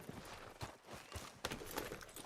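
Horse hooves clip-clop in a quiet, uneven rhythm, ridden through the open-world Western game Red Dead Redemption 2, several soft, fairly near footfalls with no talk over them.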